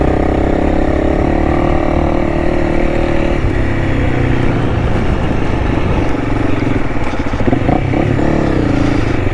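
A Honda CRF300L motorcycle is ridden off-road through vegetation, its single-cylinder engine droning loud and steady throughout, the pitch shifting with the throttle, with no voices.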